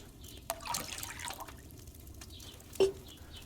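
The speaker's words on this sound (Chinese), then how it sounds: "倒入烈酒" In a video game alchemy recipe, spirits pour into a pot with a quiet liquid trickle and a few soft drips, ending in a brief, slightly louder splash.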